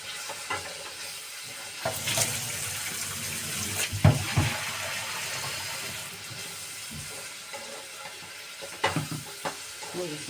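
Tap water runs into a cooking pot of carrots on the stove, a steady close hiss and splash with a few clanks of the pot and utensils, no talking.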